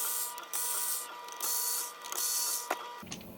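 Gearbox holding screws come out of a Nintendo NES R.O.B. robot in several loud, close bursts of high motorized whirring, separated by brief pauses, with no one talking.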